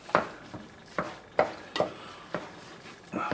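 Minced meat for Swedish cabbage pudding is stirred and mixed in a pan, about eight distinct scraping, squelching strokes in a steady rhythm, close and fairly quiet with no talking.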